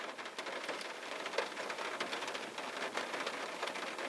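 Steady rain drums on the roof and windows of a car, heard from inside: a dense, even patter of drops that holds at a constant level, with no talking.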